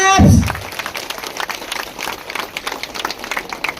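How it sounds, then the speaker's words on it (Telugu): An audience at a cheque distribution event in the Gangavaram MPDO office claps after a loud voice at the start, with scattered, uneven handclaps fading in and out at moderate distance. "గట్టిగా క్లాప్స్"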